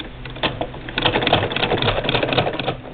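An 1891 White treadle sewing machine clatters in quick, irregular mechanical ticks and taps, close and moderately loud, over a low background hum for a few seconds.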